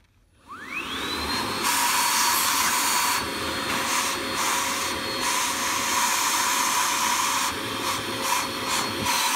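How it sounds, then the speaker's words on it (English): A Hart HPVSV50 cordless 20V stick vacuum, run on a 4Ah battery, spins up with a rising whine and then holds a steady, loud, close suction roar with airy hiss that carries on throughout. "It's sucking, but I don't know how well it's going to work after it starts clogging."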